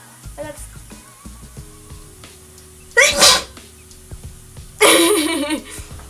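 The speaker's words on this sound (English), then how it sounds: "Oh, I gotta sneeze." Two loud sneezes, the first abrupt and short, the second longer and breathier, with light rustling between them.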